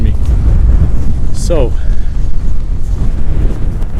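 Strong wind buffets the microphone with a loud, constant rumble on the mountain Mullaghanattin, while a voice briefly speaks over it.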